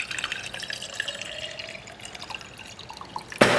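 Cold tap water runs steadily into a container for a protein drink, a continuous close trickle and splash with no talk, ending in a sharp louder clatter.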